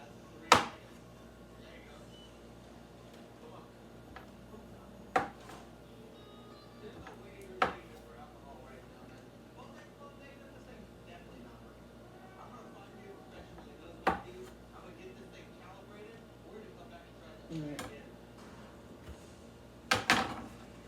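A knife cuts big pieces of food on a board in a quiet kitchen, with a handful of isolated sharp chops spaced several seconds apart and faint background shuffling between them.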